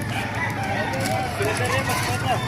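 A Lemon Sweater gamecock rooster crows nearby, its call rising out of a busy outdoor yard with other birds and people talking in the background.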